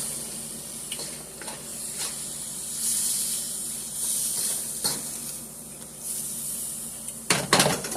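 Onions cooking down in a pan, a steady close sizzle and hiss with occasional stirring scrapes and a sharper burst of spatter near the end.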